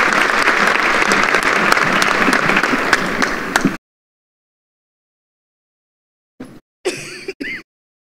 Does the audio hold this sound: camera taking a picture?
no